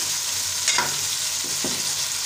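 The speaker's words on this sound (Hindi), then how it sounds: "इसको कम से कम 5 से 10 मिनट तक हम लोग भूनेंगे ताकि बिल्कुल हमारी स्मेल ख़त्म हो जाए और गोश्त जो है वो गल जाए।" Mutton bhuna sizzles in a pot, a continuous bright hiss with two short scraping strokes of a spoon close by.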